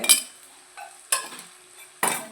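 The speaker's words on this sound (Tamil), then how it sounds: "கொஞ்சம் கரம் மசாலா போட்டு நல்லா வதக்கிக்கோங்க" A spoon scrapes and clinks against a pan three times in short bursts while food is stirred and sautéed with garam masala, with only a faint sizzle between the strokes.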